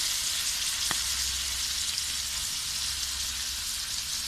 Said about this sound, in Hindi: मक्खन आपके सामने भी मेल्ट हो रहा था